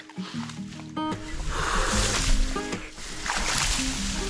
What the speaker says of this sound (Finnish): Nyt mennään saappaaseen vettä.